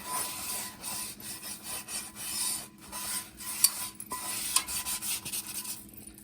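A dry paper towel wiped over a Granitestone nonstick pan, giving repeated close, raspy rubbing strokes with occasional small scrapes and taps, moderately quiet, with no one speaking.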